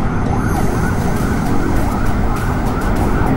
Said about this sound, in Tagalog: Nasa na yung ambulansya?